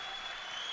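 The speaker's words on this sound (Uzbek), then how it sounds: "Olqishlashyapti mana shu jangni" Crowd applauding at a combat sports fight event, a faint, even wash of distant clapping that lasts less than a second.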